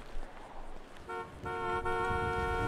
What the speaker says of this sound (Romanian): măcar mai merge claxonul